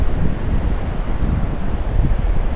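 Ocean waves and wind at Padre Island National Seashore, a loud, continuous low rumble of surf mixed with wind buffeting the microphone, with no talk.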